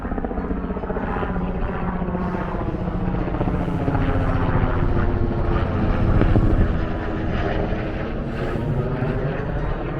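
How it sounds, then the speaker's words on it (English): A tour helicopter thrums nearby at Royal Gorge Bridge Park, its rotor chop pulsing steadily and swelling louder midway before easing slightly. "They also do helicopter tours."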